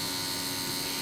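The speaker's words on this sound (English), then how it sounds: "If you hear a noise in the background, a fan going." Electric fan running indoors, a steady broadband whoosh with a faint constant hum, unchanging and alone throughout.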